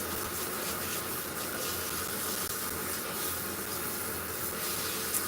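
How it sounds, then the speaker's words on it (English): Tap water runs continuously while a wig is washed in a sink, a steady close hiss and splash with no talking. "When I'm trying to wash this wig."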